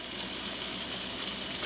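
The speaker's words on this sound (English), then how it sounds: "Brown the bottom part of the tofu." Tofu sears in a hot pan while its bottom browns, giving a steady, close, uninterrupted sizzle with no talking.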